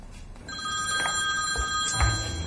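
A telephone rings while a call is placed to a big brother, with a steady electronic ringtone holding for about two seconds over faint room noise and no talking.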